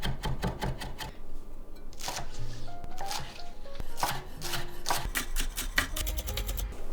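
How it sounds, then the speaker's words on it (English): A knife dices aromatics finely for fried rice, a rapid series of sharp taps on a cutting board in quick bursts with short pauses, close and steady. "I'm just dicing up my aromatics nice and finely"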